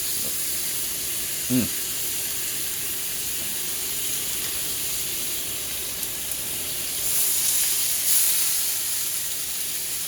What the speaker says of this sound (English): pour this butter herb mixture over the top. Ooh, look at that sizzle